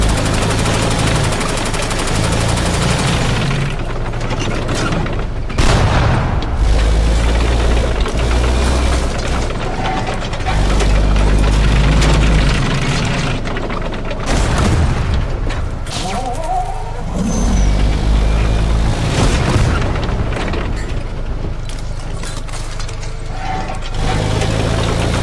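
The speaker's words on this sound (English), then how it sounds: "The ZTZ-99A's ATGM penetrates the T-55A. Despite its ERA, the hit triggers an internal detonation, and the vehicle ignites almost instantly." A T-55A tank struck by an ATGM from a ZTZ-99A in a tank battle video game, with heavy booming impacts, clanking mechanical rattles and continuous gunfire-like battle noise filling the whole stretch, loud and dense.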